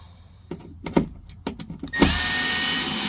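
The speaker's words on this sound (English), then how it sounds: "Let's get the screws out and show you how flimsy this junk is." Screws being removed from a front door speaker on a 2024-2026 Hyundai Kona: a run of short, sharp clicks and knocks, then a loud, steady whirring drone that carries on to the end.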